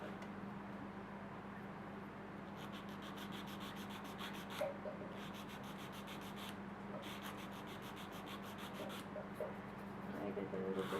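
An acrylic or dual-form nail being filed by hand during a nail tutorial, giving a steady close raspy rubbing that runs throughout in short repeated strokes, with a constant low hum underneath.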